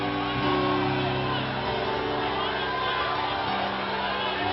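A congregation prays aloud in tongues in a loud, overlapping wash of many voices, with sustained shouting and cries throughout.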